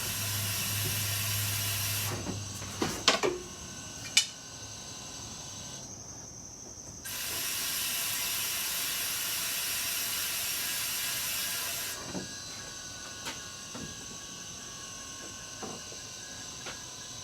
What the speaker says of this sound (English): When I press the pedal, you can hear the pump and see old fluid rush into the jar.